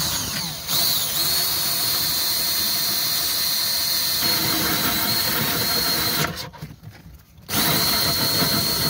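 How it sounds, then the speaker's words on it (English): Power drill boring holes through a plywood aquarium wall for an overflow box, a loud, steady high-pitched whine with squealing, a brief stall and pause near the end before drilling resumes. "We're just drilling the holes for the overflow box right now."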